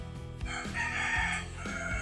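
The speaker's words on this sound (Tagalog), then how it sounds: "Ayun, manok." A rooster crows at night near the shore in the Philippines, one loud sustained cock-a-doodle-doo filling the short span over a steady background hiss.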